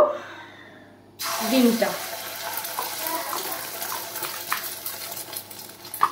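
An egg drops into hot oil in a pan for Bengali-style egg toast, setting off a sudden broadband sizzle that starts abruptly and keeps crackling steadily, with soft voices and kitchen clatter underneath.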